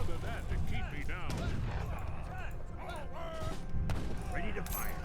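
Massed cannons fire in an Age of Empires 3 battle, with repeated booming shots and clattering impacts mixed into busy game noise and unit voice lines.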